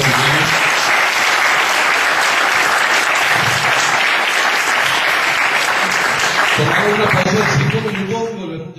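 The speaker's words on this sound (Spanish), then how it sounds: "Un aplauso para Alejandro." Audience at an international symposium on critical thinking applauding, a dense sustained burst of many hands clapping that fades out at the end, with some voices underneath.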